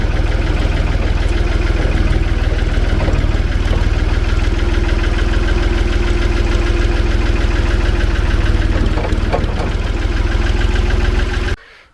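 An old, basic forklift engine with a repaired exhaust idles steadily, a loud, close, even rumble with a faint knocking throb that runs unbroken before cutting off abruptly at the end.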